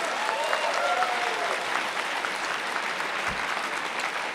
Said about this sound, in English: Show of hands, a round of applause.